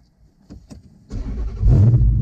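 A race car engine is started up: a few quiet clicks, then the starter cranks and the engine catches into a loud, deep, rumbling idle close by.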